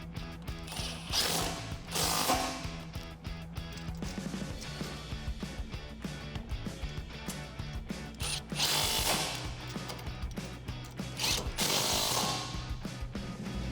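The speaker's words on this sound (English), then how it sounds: "Then I'm going to take a 16mm socket and 16mm wrench and start to tighten them down." Ratchet and wrench work tightening 16mm grille guard bolts on a 2016-2023 Toyota Tacoma, a steady run of mechanical clicking and metallic rattling with brief louder bursts, close and continuous, no talking.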